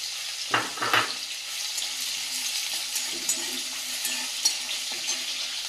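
Whole garlic cloves and chopped onion frying in a pan, with a steady close sizzle and a couple of soft thumps early on as the pieces go in.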